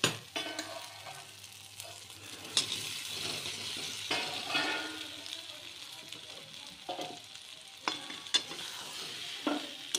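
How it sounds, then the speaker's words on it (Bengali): Fried potatoes tossed into a cooked-down spiced masala for Bengali aloo dum, sizzling steadily in the pan while a spoon stirs and scrapes with occasional clinks against the metal, close and fairly soft, no talking. "এবারে আমি আলু ভাজাগুলো দিয়ে দেবো"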